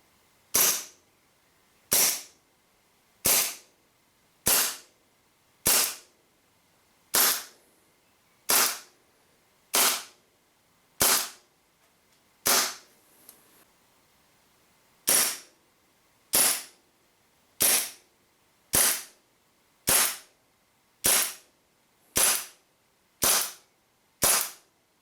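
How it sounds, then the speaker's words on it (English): WE M92 gas blowback airsoft pistols firing over a chronograph, about twenty sharp crisp pops at an even pace roughly one per second, with a short pause midway and a faint click, close with no talking. "First off, I'm going to chrono the normal length M9, and second of all, I'm going to chrono the long M9."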